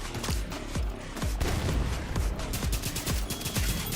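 Rapid repeated gunfire with a thin, tinny AK-like rifle crack in The Division 2, sustained and fairly loud, layered with further shots and ambient combat noise.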